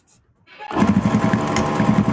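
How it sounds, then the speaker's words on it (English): Sewing machine top stitching a cloth face mask, starting after a quiet moment and then running as a steady, close, loud motor whir with a fast rhythmic needle chatter. "now I'm going to do a top stitch here, come here, cross over my stitch here"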